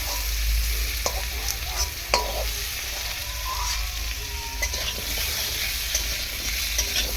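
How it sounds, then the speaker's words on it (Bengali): Chopped potatoes fry in hot oil while being stirred, a constant close sizzle punctuated by clinks and scrapes of a utensil against the pan. "তেলের মধ্যে একটু ভেজে নেব"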